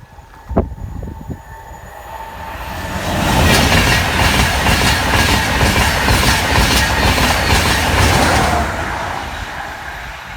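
A Virgin train from Leeds passes the Grove Road level crossing, with a loud, close rush of wheels and steady clickety-clack that builds, holds for several seconds, then fades, after an early warning tone.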